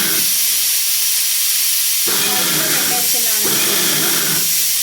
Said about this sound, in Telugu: అన్నీ పల్స్లో పెట్టుకొని గ్రైండ్ చేసుకోండి